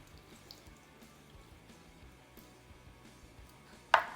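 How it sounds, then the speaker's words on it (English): Pickled jalapeño juice poured from a 12-ounce can of sliced jalapeños, a faint, steady liquid trickle in a quiet kitchen, ending in a sudden sharp clink. "I'm going to pour in some of the juice,"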